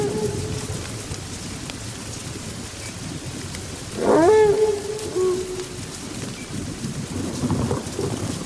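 Rain falls steadily at night in a forest, a constant close wash with a short louder swell near the middle, alone without speech.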